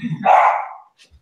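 A pet dog gives a short burst of barking at home during an online class hangout, one loud bark-like burst followed by a faint trailing yip, close to the microphone.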